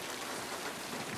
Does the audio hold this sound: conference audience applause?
no